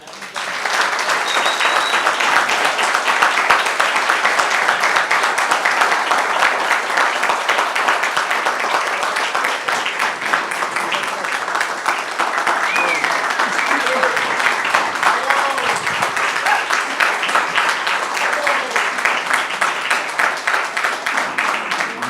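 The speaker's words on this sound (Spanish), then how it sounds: "naturalmente pido un aplauso para Marta" A forum audience at an environmental conversation event applauds at length, steady dense clapping from many hands sustained for over twenty seconds, loud and close, with a few voices calling out partway through.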